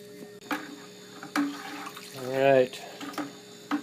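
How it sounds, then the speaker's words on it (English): Water pours into a 5-gallon bucket holding turkey brine, a short rising gush of filling liquid nearby, framed by brief clunks and handling noises. "Here we're pouring the water into the 5-gallon bucket with the brine that we poured in here."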